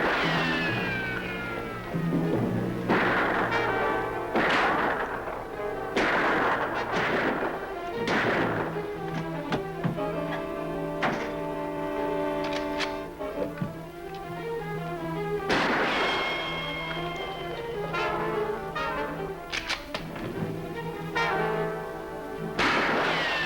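Rifle gunfire in a Western gunfight, several loud sharp cracks with ringing tails spread irregularly through a busy, dense scene that also has rumbling and shifting background noise.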